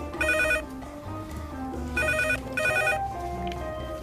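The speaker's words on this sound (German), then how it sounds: "Wir haben extra ein Telefon." An old-style telephone bell rings in two clear bursts, one short and then a longer double ring, over a background of music and room noise.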